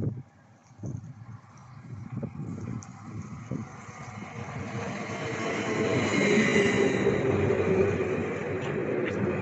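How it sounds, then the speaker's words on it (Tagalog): A train pulls into a station, starting with faint clacks and thumps and swelling into a loud, steady rumble of wheels and carriages as it draws close, with no speech. "Nandito na ang train."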